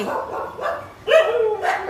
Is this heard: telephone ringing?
no